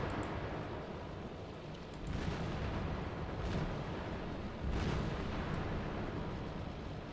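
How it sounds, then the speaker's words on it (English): Anti-aircraft fire in the WW2 naval sim Task Force: Admiral thuds and booms in repeated low, muffled bursts over a constant rumbling background, with a few heavier blasts standing out. "A lot of anti-aircraft fire going on here."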